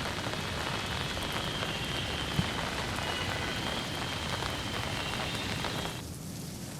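Steady, dense monsoon rainfall pattering on a surface in Nashik, loud and continuous, easing slightly near the end.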